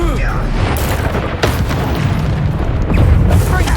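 In Hogwarts Legacy combat, Confringo explosion spells go off as deep, booming blasts and bursts, loud and close, layered over continuous rumbling battle noise that swells toward the end.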